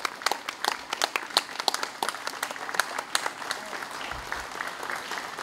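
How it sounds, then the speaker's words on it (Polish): Audience applause at an association's farewell party, heard as distinct, fairly close hand claps in an uneven rhythm with a small crowd, fairly quiet, with no talk over it. "Wielkie, wielkie brawa."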